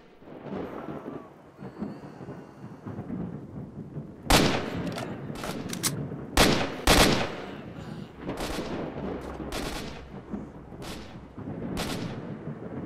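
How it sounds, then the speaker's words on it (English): Gunfire in the STALKER shooter cracks out in sharp, loud bursts and rapid volleys, some shots echoing like distant booms, with a quieter stretch of low rumble before the shooting starts. "Who's shooting at me now, and from which direction?"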